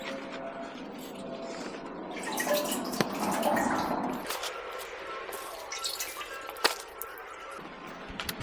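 Water drips inside an ancient rock hill at Bangkok's Ancient City, with a couple of distinct, sharp drops standing out over a hollow, echoing trickle and faint background noise.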